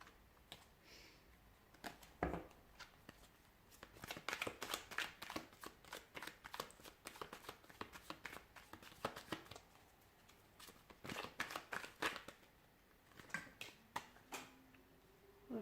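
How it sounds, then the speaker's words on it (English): A deck of cards is shuffled close by, bursts of rapid crisp riffling clicks separated by brief pauses. "Give the cards a shuffle."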